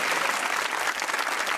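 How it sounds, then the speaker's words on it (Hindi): Studio audience applause on a Pakistani comedy talk show, a loud, dense burst of many people clapping close by, continuous and even throughout. "तालियां बजाएं।"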